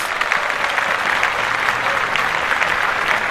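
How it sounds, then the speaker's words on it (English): Steady applause from a live audience at a podcast taping fills the space, a dense, even wash of clapping that holds at the same level throughout with no voices over it. "Clap that up."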